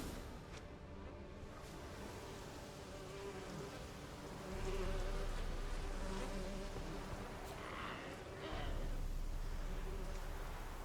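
Buzzing of an angry bee swarm in The Witcher 3, a steady insect drone under game ambience that swells louder partway through and again near the end.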